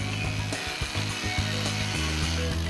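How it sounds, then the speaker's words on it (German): A loud, continuous power drill grinding into concrete with a ratcheting, mechanical rattle, steady throughout with brief irregular knocks and shifts in pitch. "in den Beton bohren"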